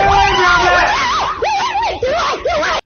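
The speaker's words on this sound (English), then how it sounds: "Why do women, why do you gotta scream all the time?" A woman screams loudly and close by, her voice rising and falling in several wavering, warbling bursts with brief breaks between them.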